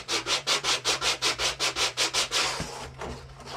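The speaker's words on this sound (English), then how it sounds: "just do it by hand with a little, this is like double-aught sandpaper" A barrel hand-sanded with fine double-aught sandpaper during wine barrel prep: about thirteen quick, even back-and-forth rubbing strokes, close and fairly loud, followed by a softer steady scrape.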